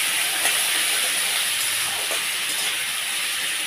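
Ginger and garlic paste sizzles in hot oil in a pan as it is stirred, a loud, even, close hiss with faint scraping underneath.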